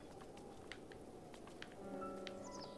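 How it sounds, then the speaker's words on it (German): Rain falls steadily in the video game Zelda: Breath of the Wild, a faint soft patter of drops on the ground with a few light taps and a brief chime-like game tone toward the end. "Es regnet mehr wie alles andere."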